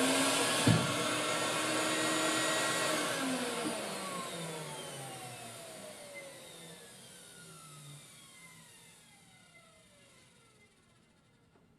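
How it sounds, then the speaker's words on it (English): A vacuum forming machine's vacuum motor whirs loudly at first, its whine sliding down in pitch as it gradually winds down and fades. "So once I turn on the vacuum, then I'll flip the sheet."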